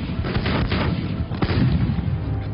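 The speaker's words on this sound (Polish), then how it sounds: "słyszeliśmy wyraźnie huk kanonady naszej artylerii" Dense artillery barrage from hundreds of guns opening fire almost simultaneously before a WWII tank battle at the Hochwald Gap, heard as continuous rumbling booms and thuds that overlap into a loud, rolling roar.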